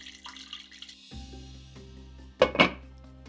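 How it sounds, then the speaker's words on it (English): Tap water filling a pot in a home kitchen, a steady low running stream near the faucet with a couple of louder splashes and clinks of the pot toward the end. "So I'm gonna fill this up with water"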